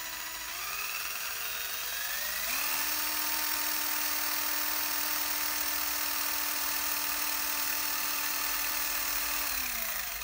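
Small homemade alternator spun by a motor, giving a steady high electric whine that shifts pitch as it speeds up, holds level for several seconds, then winds down near the end, close and alone.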